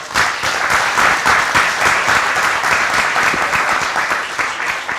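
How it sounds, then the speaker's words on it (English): Audience applause for the Director of Athletics at Fordham, Frank McLaughlin, at an introduction event: a loud, steady round of clapping from a sizable crowd, sustained for about five seconds with no voices over it. "I'd like to give a nice round of applause to the Director of Athletics at Fordham"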